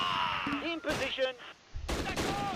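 Gunfire in the video game Close Combat: Last Stand Arnhem, short bursts of shots and clattering fire mixed with game sounds, with people talking over it.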